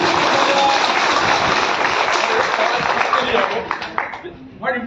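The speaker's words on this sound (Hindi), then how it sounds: "एक बार जोरदार ताली हो जानी थी भाई को भी।" A crowd at a debt-relief campaign gathering in India breaks into loud, dense clapping for a man, sustained for several seconds before thinning into scattered final claps.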